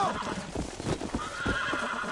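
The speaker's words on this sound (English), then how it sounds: "Are you trying to break your own horse?" A horse in the video game Red Dead Redemption gives an agitated, close neigh and whinny mixed with quick hoof clip-clops, a short restless burst.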